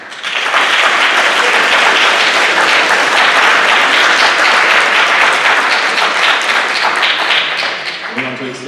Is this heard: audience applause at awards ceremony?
yes